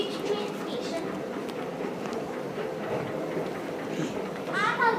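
Busy indoor ambience in a large central train station: a steady wash of crowd murmur and footsteps in a large echoing hall, with a brief brighter squeal near the end.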